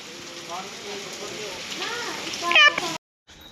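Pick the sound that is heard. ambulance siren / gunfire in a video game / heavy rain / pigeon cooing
heavy rain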